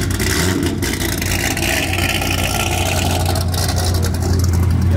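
A modified car with an aftermarket exhaust on an LS7 V8 revs loudly at a car meet: a close, deep, continuous engine rumble with rising and falling revs.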